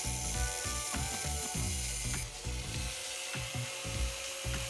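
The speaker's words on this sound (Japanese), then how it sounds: "フレクターの形状に合わすためにグラインダーで切断。" An angle grinder cuts a metal number plate stay for a fender eliminator on a Honda NM4 motorcycle, making a close, loud, steady whine with rapid rhythmic grinding chatter and no talking.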